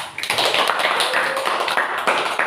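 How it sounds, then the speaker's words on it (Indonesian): A classroom of children claps, a brief burst of quick overlapping hand claps that carries on steadily for a couple of seconds. "boleh beri tepuk tangan"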